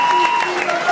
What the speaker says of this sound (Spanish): Hay un artista que necesita el aplauso